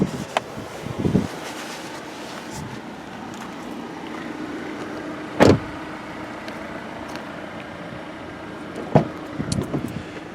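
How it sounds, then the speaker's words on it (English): Electric power driver's seat of a 2019 Volvo XC90 Inscription adjusting inside the quiet cabin, giving a low steady motor hum with a few short clicks and thumps as it moves and stops. "I'm going to adjust my driver's seat to a normal driving position"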